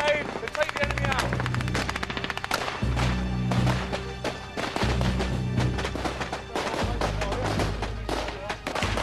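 Soldiers lay down covering fire with machine guns during an assault, sustained close bursts of rapid automatic gunfire with sharp reports, pauses between bursts and heavier booms mixed in.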